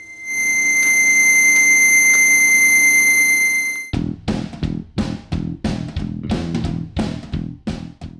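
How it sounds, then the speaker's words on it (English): A Topra 2G Premium Rollator's tilt alarm sounds a loud, steady electronic tone for about four seconds, then switches to a rapid series of sharp, pulsing beeps. "Tilting the Rollator to the side and the alarm will go off and the light will start to blink."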